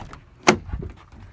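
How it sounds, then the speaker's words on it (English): A truck door on a King Ranch pickup with a 7.3L engine opens with one short sharp latch click, followed by a dull low thud. It is close and brief, with nobody speaking. "Let me open this door"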